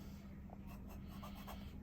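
18 karat medium #8 Montegrappa solid gold fountain pen nib writing on Rhodia paper, a very faint soft scratching and gliding over steady low background hum.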